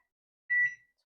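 A kitchen timer gives a single short electronic beep, close and clear, in otherwise near silence.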